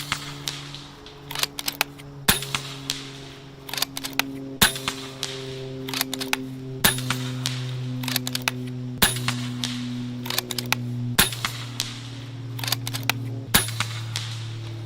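Rifle shots fired in an 8-round group at a 100-yard range ring out as sharp, separate cracks at uneven intervals, with a steady hum underneath.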